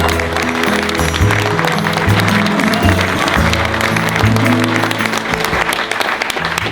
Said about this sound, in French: oui, on peut l'applaudir, on va prendre le temps